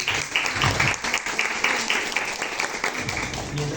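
An audience at a literature conference in Arequipa breaks into loud, close applause that continues throughout with a slight swell and fade, while some voices murmur underneath.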